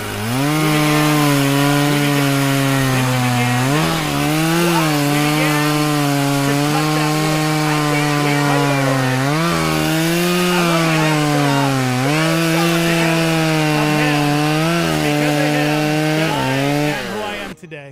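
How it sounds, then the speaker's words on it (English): A chainsaw cutting wood roars steadily and loud throughout, its engine drone holding pitch with a few brief dips and surges as the blade bites, close up and uninterrupted with no one talking. "He pulled the chainsaw cord, and that thing fired right up."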